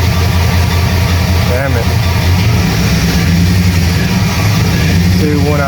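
A 5.3 Vortec V8 truck engine idles roughly with a steady, uneven low rumble and misfiring stumble, loud and close, while someone speaks briefly over it.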